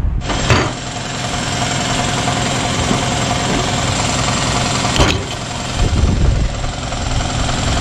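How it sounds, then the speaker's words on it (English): Power saw cutting through a part clamped in a vise, a steady loud machine drone with a constant rhythmic chatter that runs alone for several seconds, dipping briefly and surging again near the end. "let's go ahead and start sawing right down here"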